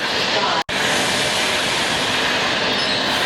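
A train pulls out of a station in Sydney, a loud, constant roar of wheels and carriage noise filling the scene, broken only by one very brief dropout.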